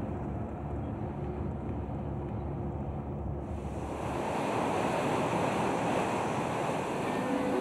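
The Sutlej river flowing through Kinnaur district: a steady, broad rush of water heard close and loud, mixed with wind buffeting the microphone, with no voices.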